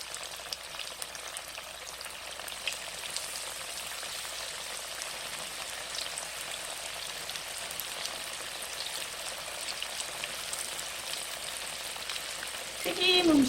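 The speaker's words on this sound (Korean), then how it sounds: "튀기는데 바짝 튀겨야 돼요" Steady crackling sizzle of frozen tofu deep-frying in hot oil, continuous and even throughout, with a brief louder clatter at the very end.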